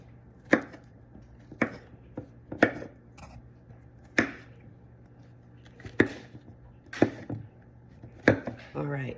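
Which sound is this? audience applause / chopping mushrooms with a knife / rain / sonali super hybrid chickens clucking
chopping mushrooms with a knife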